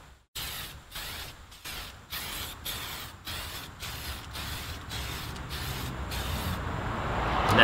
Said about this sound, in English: start almost outside the body and spray all the way through